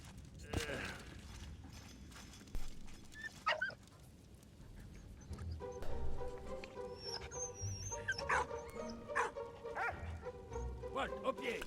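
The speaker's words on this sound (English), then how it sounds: "Dog! Dog!" A dog barking and whimpering in the World War I video game Valiant Hearts: The Great War, several sharp yips scattered among game music and mechanical effects, with a person talking over it.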